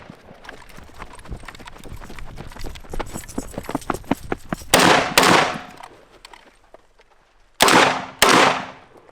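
SKS rifle gunshots ring out as four loud, sharp cracks in two pairs. Rapid clattering and ticking come before them, and a quiet gap separates the pairs.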